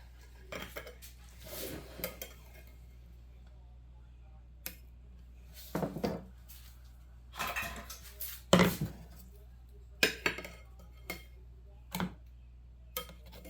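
A knife trims the edges of a dairy-free chocolate cake, giving a series of sharp scraping and tapping contacts against a board or plate. They come in irregular bursts with quiet gaps between them, close up and fairly crisp.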